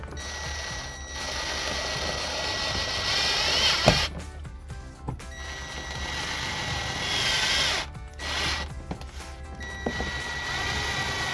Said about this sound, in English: you can either pre-drill holes or you can use the self-tapping screws that they provide in the kit